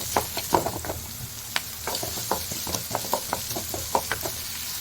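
Chopped onion and asafoetida tossed into a hot pan for a drumstick leaf stir-fry, a steady sizzle with repeated close spatula scrapes and taps in an uneven rhythm.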